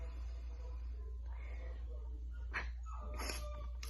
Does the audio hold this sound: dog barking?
yes